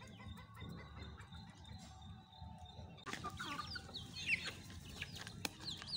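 Farm chickens cluck and chirp while running about at morning feeding, a scattering of close clucks and higher calls that grows busier halfway through, over low outdoor background noise.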